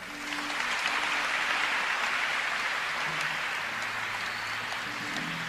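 Crowd applauding at a church service in Brazzaville, steady dense clapping throughout, loud and close, with faint voices underneath.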